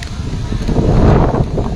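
Strong wind beside the sea buffets the microphone with a continuous rumbling roar, gusting slightly louder partway through.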